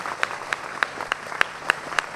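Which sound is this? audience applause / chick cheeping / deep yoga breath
audience applause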